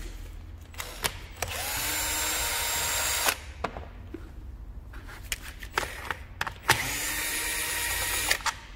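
A power screwdriver whirs in two sustained bursts of a few seconds each as it backs screws out of the top cover on a STIHL FS 80 brushcutter, with short clicks and handling noises between the runs.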